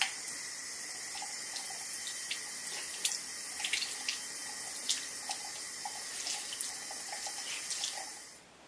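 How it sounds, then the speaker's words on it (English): Lukewarm tap water runs steadily over a Beautyblender makeup sponge in a sink, a continuous close splashing stream with small irregular drips and squelches as the sponge is squeezed, no voices. "run it under some lukewarm tap water and squeeze it at the same time"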